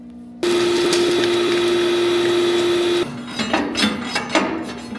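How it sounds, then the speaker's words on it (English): Loud steady whine of a vacuum cleaner sucking debris out of a very large wood chipper, running for about three seconds before cutting off, followed by scattered clunks and rattling. "we're going to get the vacuum, start vacuuming this out"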